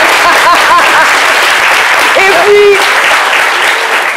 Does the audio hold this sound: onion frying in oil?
no